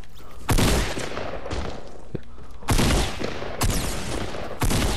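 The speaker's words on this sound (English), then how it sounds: "still shooting" Gunfire in a video game: repeated bursts of automatic fire come close and loud in several separate volleys over steady background noise, with no talking.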